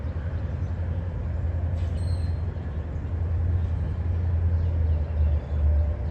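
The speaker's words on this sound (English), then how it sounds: "you can hear a train right now" A train rumbles past near a Wendy's parking lot, a steady low-pitched roar that slowly swells louder over several seconds, with faint birds and traffic around and no talking.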